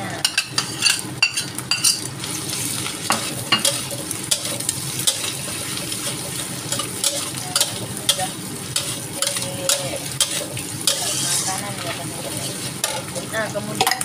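Oreng and chicken meat stir-fried in a pan, loud sizzling under repeated scraping and clanking of a utensil against the pan in an uneven rhythm, with no voices.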